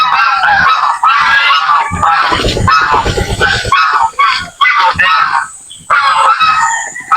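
Loud, harsh honking from several geese close by, repeated calls overlapping in raucous bursts with brief pauses between.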